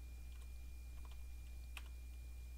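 Quiet keyboard typing on a computer, a few soft scattered key clicks over a steady low hum.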